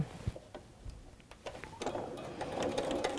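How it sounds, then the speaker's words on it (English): A sewing machine stitching fabric at a craft table, quiet rapid mechanical ticking and whirring in short bursts that build into a steadier run toward the end, no voices. "I'm going to sew it first and then show you what I've done"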